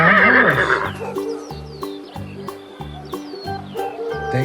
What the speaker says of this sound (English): A brown horse.